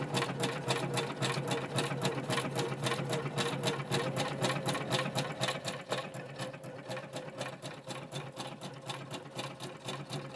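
A sewing machine stitches through leaves with a quick, steady mechanical chatter of the needle, close and moderately quiet, running evenly throughout with a slight slowdown midway.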